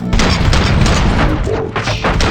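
Dense, overlapping gunfire erupts in a rapid fusillade from a RoboCop video game, loud and continuous with a booming low end and no pauses.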